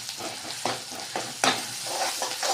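Ginger and green chilies frying in hot oil, a steady loud sizzle with several scraping stir strokes of a spatula against the pan, close and without talk.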